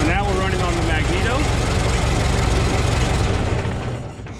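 A Ford Model T engine idles on magneto ignition with a loud, continuous low chugging rumble that fades slightly at the end, and someone talks over it at the start.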